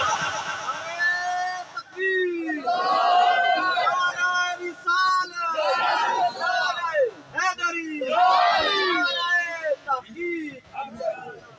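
A large gathering at a shrine answers religious slogans called from the stage, many voices roaring back in repeated loud collective shouts and chants that rise and fall in waves, with a leader's voice between them.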